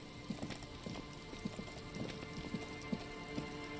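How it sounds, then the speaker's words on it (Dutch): Steady rain falls in the video game Disco Elysium, a dense even patter with scattered heavier drops tapping on a surface, continuous throughout with no talk. "Het regent ook."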